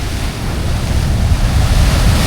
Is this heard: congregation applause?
no